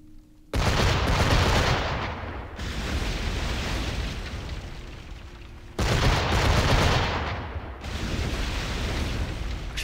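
Cannon fire in an Assassin's Creed IV Black Flag naval battle: two loud, booming volleys with sharp onsets, each trailing into a long rumbling roar of fire and sea.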